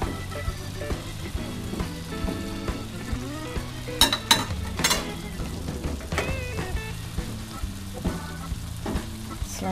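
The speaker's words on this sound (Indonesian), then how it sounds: "Kemudian selanjutnya masukkan wortel, kemudian masak sebentar." Carrots are stir-fried in a pan for a young corn stir-fry, a constant close sizzle with clattering spatula strokes against the pan, a few sharper knocks midway, and no talking.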